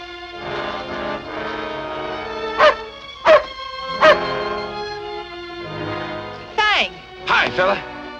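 A dog barks in a few sharp, close yips among whimpering, heard amid steady talking in an old 1942 adventure serial set near a tunnel.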